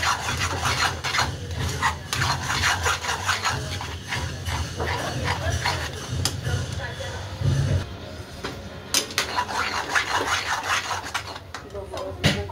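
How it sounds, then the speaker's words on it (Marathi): A spoon scrapes and rubs through a thick besan (gram flour) mixture in a pan, a steady rasping stir repeating in quick strokes while someone talks over it. "छान असं हलवून घ्यायचं, असं हलवायला लागतं।"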